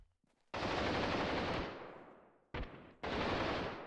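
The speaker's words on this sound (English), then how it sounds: "Saw those bullets whizzing by." Gunfire in the guerrilla war game Freeman: Guerrilla Warfare comes as long, loud bursts of rapid automatic fire. Bullets whiz past, and the bursts tail off between a short gap and a renewed volley.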